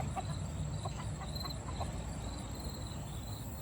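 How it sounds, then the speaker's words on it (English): A Brahma hen clucks in a short series of soft calls, a few paces off, over a steady outdoor background of insect buzz. "one of the Brahmas over there decided to start singing"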